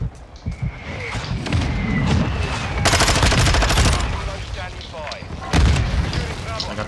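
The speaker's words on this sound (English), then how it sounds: "Our mortar strike is inbound." Mortar strike explosions and gunfire in Call of Duty: heavy booming blasts and rapid shots crowd together, with two especially loud bursts of impact, under a voice talking over the battle.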